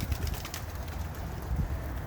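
Half-homer pigeon cooing close by, soft low throaty coos repeating in short bursts over a steady outdoor background.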